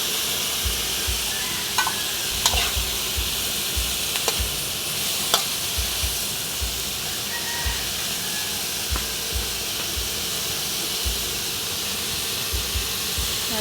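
Carrots, chayote and beans stir-fry in a hot pan with a constant loud sizzle and hiss, broken by occasional sharp scrapes and clicks of stirring.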